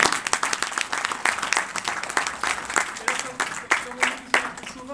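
An audience at a cheque presentation for research funding in Ottange, Lorraine, breaks into lively applause, a dense patter of many hands with a few louder individual claps, while a voice talks faintly underneath.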